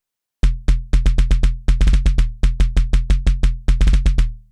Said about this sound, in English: This gun layer here is just a gun sound